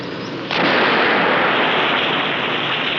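An explosion at a paint and varnish factory in a 1956 film: a sudden loud blast at the start gives way to a sustained, roaring broadband rush that holds steady to the end.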